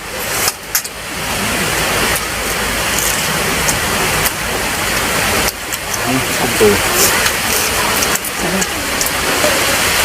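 Steady rain pours down outdoors, a continuous broadband hiss of drops on surfaces that holds for the whole stretch, with voices faintly present beneath it.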